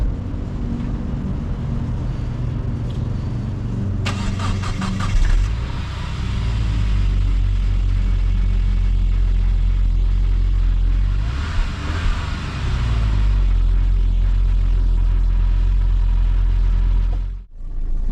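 Saab 9-5 2.3 Aero turbo engine starting and idling, a continuous close, loud low rumble with a brief burst around the start and a steady running drone afterward, cutting off near the end.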